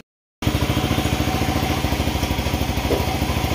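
A 400cc Ace big bike with hard starting and lost compression fires up after a silent moment, settling into a loud, close, rhythmic idle with an even pulsing chug.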